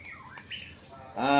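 Magpie robins (murai batu) calling at a bird breeding farm, with short chirps and whistles near and far that swell into a louder, sustained song toward the end.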